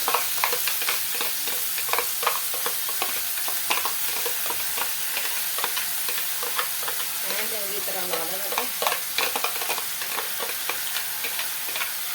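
Continuous crackling sizzle of onions frying in hot desi ghee for a tempering, with a dense patter of pops and occasional stirring, loud and close throughout.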